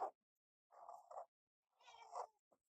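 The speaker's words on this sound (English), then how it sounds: "Cat's meowing like crazy." A cat meows in two drawn-out calls about a second apart, fairly close and clear against a quiet room, with a short sharp sound at the start and another brief one near the end.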